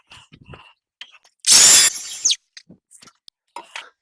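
Timber being scored for a timber frame joint: a short loud burst of tool noise lasting under a second, surrounded by quiet clicks and small handling taps.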